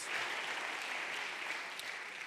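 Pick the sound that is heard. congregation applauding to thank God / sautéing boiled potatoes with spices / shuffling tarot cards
congregation applauding to thank God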